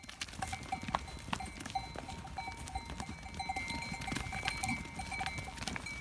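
Many small bells clank and jingle over a busy rumble of hooves as a flock of Sarıbaş sheep hurries to its feed, with no talking.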